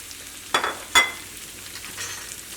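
Crushed garlic and ginger dropped into hot oil for a chicken curry cooked without onion: two quick, bright bursts of sizzle close together, then a softer, lingering crackle of frying fading out.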